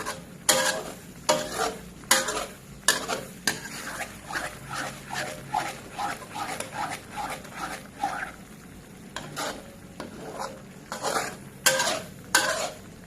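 A utensil scrapes and stirs chicken and bamboo shoot curry in a metal pan in short, rhythmic bursts. Some clinks of metal are mixed in, and a soft sizzle sounds underneath.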